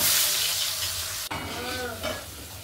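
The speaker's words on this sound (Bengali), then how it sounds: "ভাজা ভাজছে আর এক এক করে তুলছে" Eggplant, sweet potato and raw plantain slices fry in hot oil, a loud continuous close sizzle broken by a brief sharp click midway.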